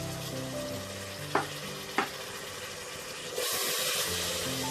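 Turmeric, coriander and cumin powders and tomato pieces fry in hot oil for a mutton drumstick curry, a steady close sizzle with two sharp pops, then a louder hissing surge near the end.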